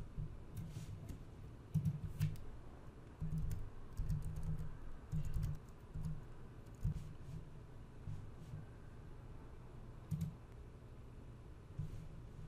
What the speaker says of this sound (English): We will type the word supervisor in the third search box.